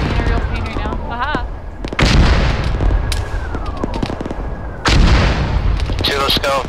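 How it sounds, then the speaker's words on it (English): Mortar shells exploding in Arma 3, heavy booms and bursts landing near and far across a busy battlefield, with gunfire crackling around them and voices of players talking over the blasts. "Mortars are landing between us."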